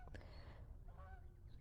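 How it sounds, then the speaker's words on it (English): Geese honking by a river on a quiet morning, a few faint calls drifting in overhead, some distance away against steady low background rumble. "Some geese above."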